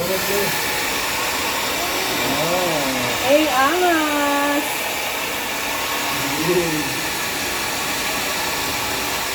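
Hair blower drying hair after a haircut, a steady broad hiss running close and continuous throughout, while people talk over it with a few raised, sing-song voices.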